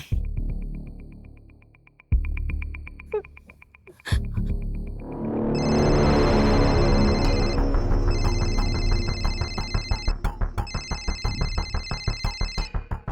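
A phone rings in a house, an electronic ringtone with repeating bright pings and a throbbing pulsed pattern that swells after dramatic low hits, loud and close with no talking.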